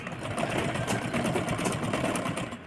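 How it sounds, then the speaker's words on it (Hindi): Sewing machine stitching steadily along the edge of a netted frill blouse, a continuous close, loud whirring drone with a rapid needle rhythm and no pauses. "घुमाने के बाद इसके किनारे किनारे पे सिलाई लगा लेंगे इस तरह से"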